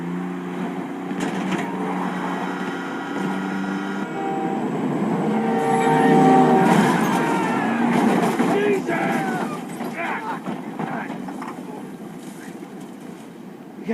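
A train rushes past during a frantic car chase in a video game, its rumble swelling to a peak mid-clip and then fading, with engine noise and game effects mixed in.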